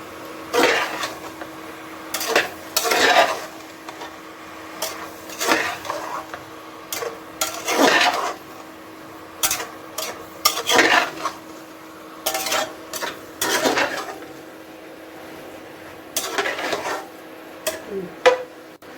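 Vegetable khichuri being stirred together in a pot, with repeated scraping and clanking of a utensil against the metal in bursts separated by short pauses, close by, without any talking.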